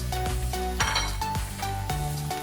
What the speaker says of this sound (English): Just saute it until it all softens up